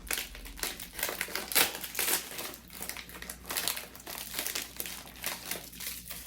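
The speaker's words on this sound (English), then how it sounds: "Let's open up our accessories packet next." The plastic accessories packet from a cold-weather MRE is torn open and handled, giving a continuous close crinkle and rustle with sharp crackling bursts throughout.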